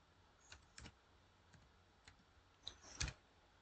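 Computer keyboard keys tapped while working in Excel, a handful of scattered quiet clicks with a quick cluster near the end, recorded close in a quiet room.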